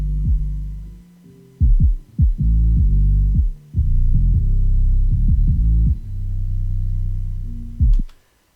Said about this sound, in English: it will basically sound like this just with the 808 and the low end